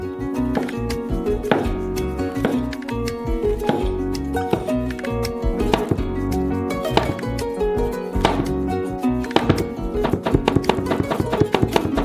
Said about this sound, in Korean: 가열하는 동안 버섯을 썰어요.